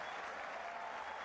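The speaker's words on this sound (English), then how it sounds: "There'll be a huge roar from the crowd." A cricket crowd at a Pakistan versus Australia T20 match applauds and roars for a batter's fifty, a dense continuous wash of clapping heard at some distance.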